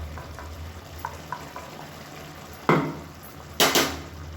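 Spoon scraping and clinking in a pan as coconut paste is stirred into a simmering mushroom kurma with yogurt, soft taps followed by two louder scraping bursts over a low background hiss.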